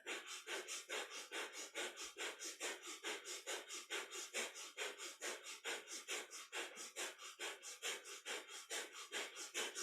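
Kundalini yoga breath of fire: rapid, even, forceful nasal breaths pulsing about three times a second, close and steady for the whole stretch with no talking.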